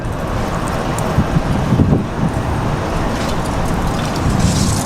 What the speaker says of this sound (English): the wind is definitely a struggle.